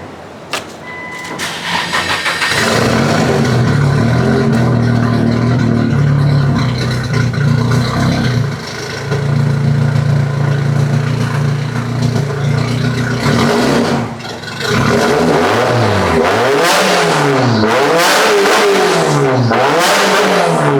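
A Nissan S15 with an SR engine and a quieter exhaust cranks and fires up, settles into a steady idle, then revs up and down several times near the end, loud and close.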